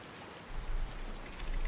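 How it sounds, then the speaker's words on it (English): Steady rain falls in Farming Simulator 19 with the Seasons mod on the Greenwich Valley map, a soft continuous hiss that swells slightly after the first half second and stays even throughout, with no voices. "Here comes more rain."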